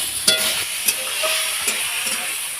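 Drumstick flowers fry and sizzle in a pan under a steady hiss, while a utensil stirs them with a few distinct scraping clicks against the pan. The sound is close and continuous, with no talking.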